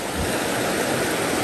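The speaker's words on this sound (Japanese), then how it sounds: "いいな、川の音。" Continuous broadband rushing of river water flowing over bedrock at a fishing spot, steady and close, with no voices.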